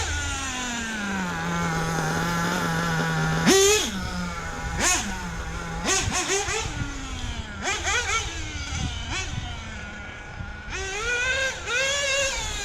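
A Hobao VS2 nitro RC car's small glow engine idles steadily up close, broken by several sharp blips of revving that rise and fall, with occasional voices nearby.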